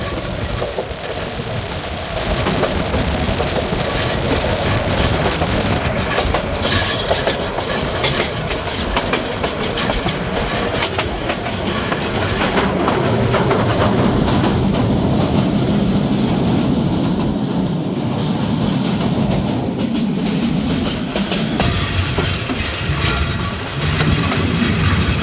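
Paharika Express passenger train rolling along the rails through hilly country, a steady loud rumble with clickety-clack wheel beats running without pause, no voices.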